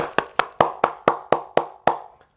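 A single person clapping nine times at a steady, brisk pace, close and crisp, then stopping.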